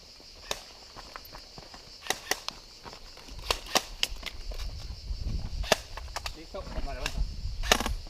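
Airsoft guns firing BBs toward the enemy outdoors, sharp scattered pops and cracks at irregular intervals, some near and some farther off, with footsteps and rustling in between and voices faintly under the shots.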